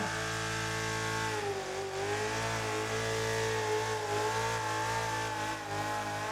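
Drift car engine holding high, steady revs through a drift entry, a loud sustained droning whine that dips briefly and recovers, close and continuous with no talking.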